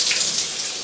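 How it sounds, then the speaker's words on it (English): Steady broadband rush of water pouring from a Fitespot filtered shower head, continuous and fairly loud with no pauses, no voices over it. "I'm gonna turn the water on."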